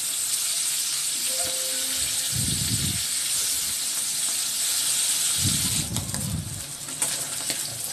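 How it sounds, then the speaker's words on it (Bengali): Fish rubbed with salt, turmeric and chili fries in hot oil in a pan, giving a steady close sizzle and hiss throughout, with a couple of low bubbling spatters partway through. "আমার মাছগুলো ভেজে নেওয়া হয়ে গেছে"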